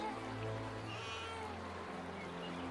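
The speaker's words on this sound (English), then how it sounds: "There is a crying sound coming from that basket." A baby cries from inside a basket in a river setting, drawn-out wavering wails near and fairly loud at first, then trailing off into softer sound.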